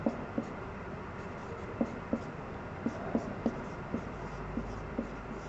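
A math lesson on rational numbers is written out by hand, giving quiet, evenly spaced taps and strokes over a soft steady hiss, close and faint.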